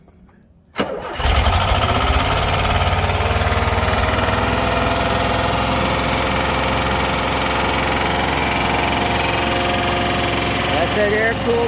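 Air-cooled Volkswagen Westfalia camper engine, freshly rebuilt, cranks and catches after a second of quiet, then settles into a steady, loud, close idle with a low throbbing rumble and faint talk underneath.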